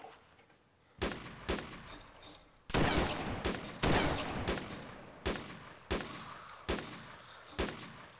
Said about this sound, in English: Oh, he's shooting at them now.